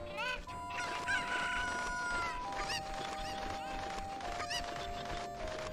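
In Zelda: Ocarina of Time, chickens cluck and squawk with repeated sharp calls over sustained game music tones, fairly loud and continuous, with a voice faintly underneath.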